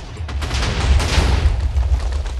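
Loud rumbling explosions blowing up rooms in Minecraft, a dense, continuous low boom with crackling debris filling the short stretch without pause.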